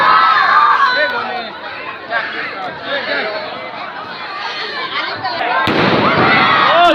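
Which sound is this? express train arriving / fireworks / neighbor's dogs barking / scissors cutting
fireworks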